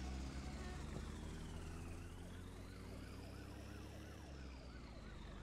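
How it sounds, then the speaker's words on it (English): A police car siren in the game My Summer Car wails in a rising and falling pattern, then switches to faster yelping sweeps, steady and continuous against low engine rumble. "I can hear the cop car."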